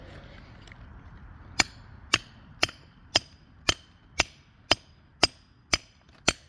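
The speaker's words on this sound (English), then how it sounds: "I'm gonna try to split the rock through here using my chisel and my hammer" A big hammer strikes a chisel to split rock while hunting trilobite fossils: ten sharp, ringing metallic blows at a steady, unhurried rhythm, close and loud against a quiet background.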